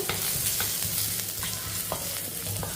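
Steady sizzle of garlic and cumin frying in ghee in a pan, with intermittent stirring scrapes and clinks, close and continuous, no talking.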